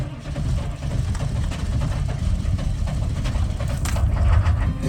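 A 1995 Chevrolet K1500 pickup with a 6.5 turbo diesel engine idles after a cold start, a steady low rumbling clatter with a rough, even knock that continues throughout.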